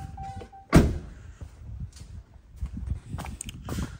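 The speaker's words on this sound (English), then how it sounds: "Let's go ahead and shut this door." A vehicle door shut with a single sharp, close thud near the start, followed by quieter shuffling and handling noises.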